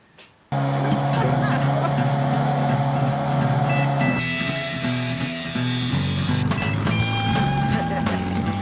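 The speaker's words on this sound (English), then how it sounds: "So it's a case of just disking that off," An angle grinder with a cutting disc grinds through a steel bracket on a Suzuki Bandit motorcycle frame in a garage. The loud, steady, harsh whine starts abruptly after a short quiet moment and continues, shifting in pitch as it bites.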